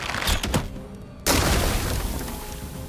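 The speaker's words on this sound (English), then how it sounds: "The barrel has exploded, releasing a cloud of poison gas." A barrel explodes in the board game Demeo, a sudden loud burst that cuts in after a brief hush and holds as a broad rushing roar, preceded by a few softer thuds.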